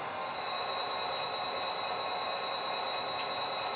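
Model train locomotive backing up to couple with cars during a switching session, a steady mechanical hum with a thin high whine and a few faint clicks, no voices.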